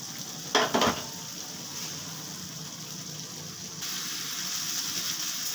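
Spices fry in oil for a chitol fish curry, giving a soft, steady sizzle close by. A brief louder stirring scrape comes near the start, and the hiss brightens slightly toward the end.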